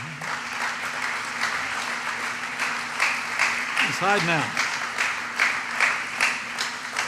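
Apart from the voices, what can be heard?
audience applause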